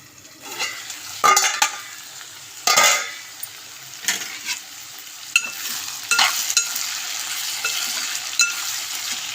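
A spoon scrapes and clatters against a pan while eggplant curry with turmeric is stirred, giving irregular knocks and scrapes over a steady soft sizzle of frying.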